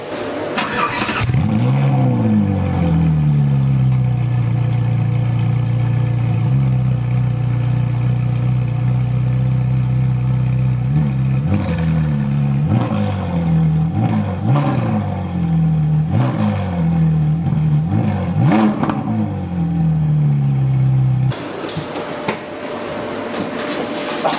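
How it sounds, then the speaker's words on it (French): A Ferrari 458 cranks and fires up, settling into a steady idle broken by a series of sharp throttle blips and revs, loud and close, before the engine cuts off near the end. "je vais vous démarrer la 458 pour que vous puissiez constater le bruit qu'elle fait"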